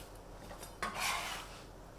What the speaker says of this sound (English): Cut them in half and peel back the skin.